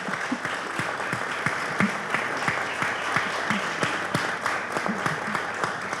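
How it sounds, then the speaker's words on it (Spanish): Audience applause for Fátima at a Paraguayan tribute event, a steady dense patter of clapping lasting throughout at moderate loudness, with no voices over it. "Por eso pido ya, antes que nada, darle un aplauso a Fátima."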